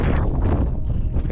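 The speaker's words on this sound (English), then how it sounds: "It does sound a bit windy" Steady low rumbling buffet of wind across the microphone, continuous and fairly loud throughout the short stretch.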